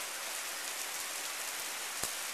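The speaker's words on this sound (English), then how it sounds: "Man, it is raining." Steady rain pours down on a rainy September day, a dense even hiss of drops on surfaces with one brief louder splash near the end, no voices.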